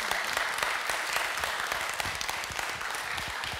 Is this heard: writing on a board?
no